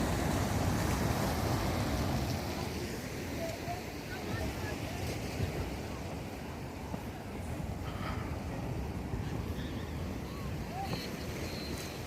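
Sea waves wash onto a beach in Pondicherry in a steady, rolling roar, with gusty wind buffeting the microphone and no distinct voices.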